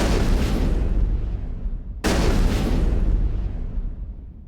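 Two heavy, booming sci-fi fusion explosions from Mass Effect, one after another, each hitting hard and then fading into a long, echoing tail.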